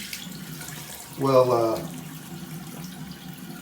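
Cold water runs briefly from a tap into a sink during a head shave, a clear close gush lasting about half a second before it stops. A voice speaks faintly nearby.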